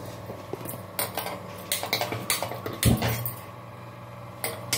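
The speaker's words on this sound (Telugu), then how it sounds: "అదే pan తీసుకున్నాను" A pan is handled on a stove while making gongura chutney, giving scattered metallic clinks and knocks with one heavier clunk midway, close and moderately loud, no talk.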